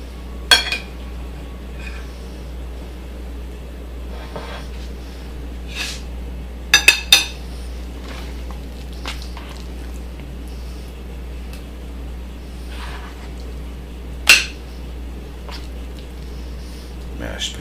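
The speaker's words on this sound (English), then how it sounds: "Get some of these carrots on my plate" Carrots served from a crock pot onto a plate, with a roast beef dinner: a few sparse, light clinks of a utensil against dishware at scattered moments over a steady low hum.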